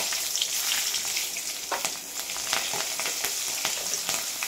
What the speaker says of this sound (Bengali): এবার আমি ফোড়ন হিসাবে ইউজ করছি কালো জিরা, হাফ টিস্পুন কালো জিরা